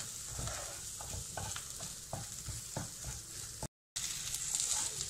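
Taro (arbi) pieces frying in masala with green chili over a low flame, a steady close sizzle with repeated soft stirring scrapes from a spatula, broken by a brief gap of silence.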